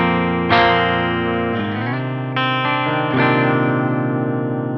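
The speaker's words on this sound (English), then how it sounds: "Let's go through the pickups clean sounds here so that way you can hear what these sound like." ESP LTD electric guitar on the bridge pickup with a clean tone, a few bright strummed chords and single notes ringing out in sequence, close and fairly loud, with no talking.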